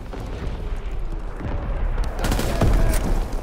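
Artillery strike in Call of Duty WWII, a rumbling barrage of blasts and booms that swells louder toward the end, with heavy low thuds near the close.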